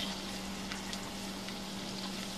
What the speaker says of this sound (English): So now I've got my garlic and my margarine mixed together very nicely and starting to soften up the garlic and become translucent